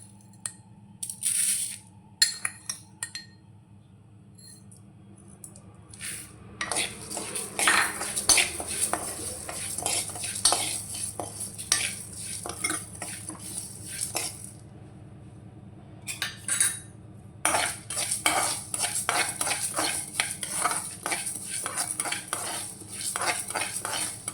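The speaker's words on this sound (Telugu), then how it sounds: "పచ్చనిపప్పు కొంచెం వేగింది కదండి ఇందులోనే మినప్పప్పు పుట్టు మినప్పప్పు అనమాట" Chana dal and urad dal being dry-roasted in a pan for a moringa leaf ghee spice powder, with repeated scraping and stirring of a metal spatula, clinks against the pan and a light sizzle, close and steady with no talk.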